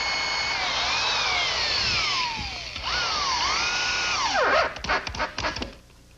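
Power drill drives screws into 2x4s beneath a particle board countertop, the motor whine rising and falling in pitch as each screw goes in, then ending in a few clattering knocks.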